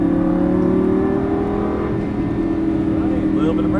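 A Lamborghini Gallardo LP550-2 engine pulls hard out of a corner on track, a steady loud drone with its pitch slowly rising as the car accelerates, heard from close inside the car.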